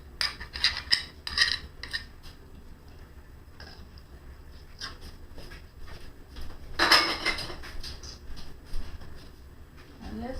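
A pan for peanut butter fudge is handled with a few bright metallic clanks and scrapes, a quick cluster early on and a louder clatter midway, with quieter rustling between.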